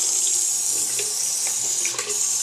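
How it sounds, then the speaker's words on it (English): Tap water runs steadily into a sink, a continuous bright rushing hiss with small gurgles, close and fairly loud, with no talk. "Run some water. It's going to be a little loud"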